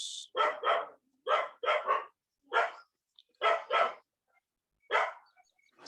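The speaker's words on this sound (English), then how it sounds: "the barking sound is coming" A dog barks in a series of sharp, separate barks, in ones and pairs with short gaps between them. It sounds fairly close against otherwise quiet surroundings.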